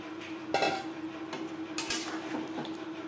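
A utensil scrapes and knocks against a cooking pot as fish is stirred into gravy, giving a few soft metallic clinks and taps spread over a few seconds, quiet and close, with no voices.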